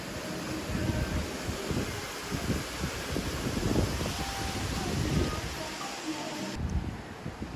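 Strong wind in Cuba during a hurricane, a steady roaring rush with gusty surges and rustling, close and continuous across the whole stretch.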